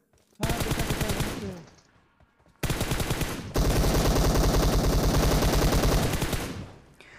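Automatic gunfire from the BGMI battle royale game rattles out loud and close: one sustained burst, a pause, then a longer unbroken spray of rapid shots that cuts off abruptly.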